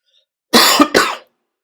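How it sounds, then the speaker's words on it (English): A single sharp cough, a quick double burst from one person close to the microphone, alone in silence. "I'm going to try to remember to edit that cough out."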